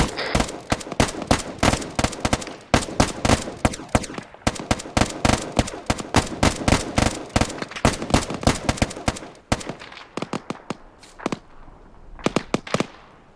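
Rapid rifle fire in ArmA 3 during a British military-simulation section training: a long stream of sharp, closely spaced shots, some nearer and louder, thinning into scattered bursts toward the end, with no voices.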